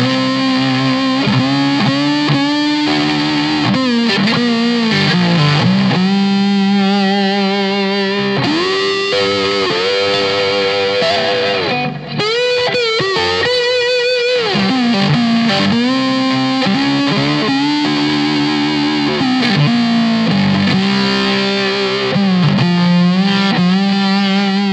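Open G slide guitar on an Airline Twin Tone, cranked through heavy gain distortion, plays loud, continuous sliding lines and chords with gliding pitch bends, alone with a brief dropout near the middle.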